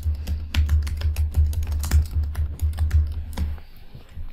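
Fast typing on a computer keyboard, a dense run of close, crisp key clicks with slight pauses, trailing off near the end, no voices.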